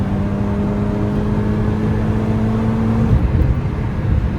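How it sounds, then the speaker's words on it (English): A Honda Accord fitted with an HKS high power exhaust muffler drones steadily up close with a low, even engine hum, its tone shifting briefly near the end. "So I went and picked up a HKS high power exhaust muffler, so you know it mellowed down the sound."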